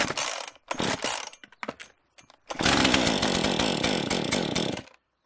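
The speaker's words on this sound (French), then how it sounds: "là on va essayer de démarrer la tronçonneuse. La petite Husqvarna là." A small Husqvarna chainsaw is pulled over several times in short sputtering bursts, then catches and runs loud and steady at close range for about two seconds before cutting off.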